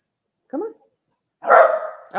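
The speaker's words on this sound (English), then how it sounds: "Oh, Barnum, don't bark at her." A dog gives a short bark followed by a longer, louder bark or yelp and the start of another, close by and indoors, with silent gaps between them.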